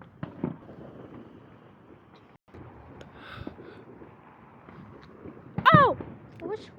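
Fourth of July fireworks pop and crackle at a distance, scattered thuds capped by one louder burst near the end, with people talking and exclaiming over the show.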